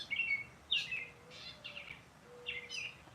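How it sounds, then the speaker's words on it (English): A bird sings outdoors in several short, bright chirping phrases separated by brief pauses, fairly faint against quiet background hiss. "I hear a bird."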